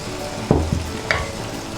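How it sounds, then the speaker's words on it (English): Boiled potatoes and frozen green peas dropped into frying akhni pulao, giving a few soft thuds and a brief sizzle burst in a quiet pan. "we're going to throw in our potatoes that we have boiled early on, a handful of frozen peas, green peas"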